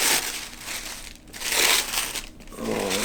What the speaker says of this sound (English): let's go ahead and rip off the tissue paper on this.